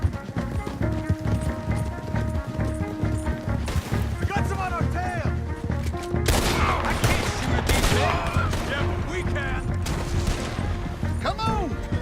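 Gunfire in a Red Dead Redemption 2 shootout: dense volleys of shots and rapid bursts, with shouting voices and galloping hooves over a loud, continuous backdrop.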